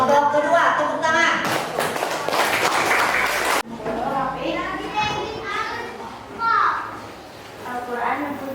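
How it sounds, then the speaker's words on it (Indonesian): Children in a classroom clap for the second presentation group, a burst of lively applause lasting a couple of seconds. Voices of the teacher and kids talk before and after it. "tepuk tangan."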